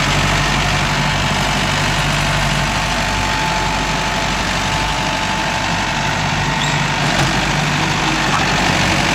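A Mahindra Arjun Novo 605 DI tractor working a rotavator among coconut trees, its diesel engine running in a steady, loud, continuous rumble close by, with no breaks.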